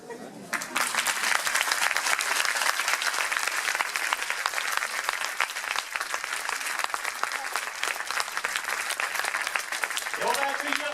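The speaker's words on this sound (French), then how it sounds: "je vous demande de les applaudir" Audience at a judo club gala gives sustained, dense applause that holds loud and steady for several seconds before tailing off at the end.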